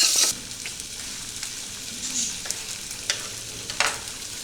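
Oil sizzles softly with a few scattered spoon scrapes and taps as crushed ginger and garlic fry in a pan.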